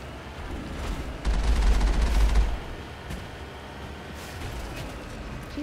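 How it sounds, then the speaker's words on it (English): Gunfire aimed at the player in the video game Mass Effect: a dense, muffled burst of shots lasting about a second, loud against steady background battle noise. "I'm still getting shot at."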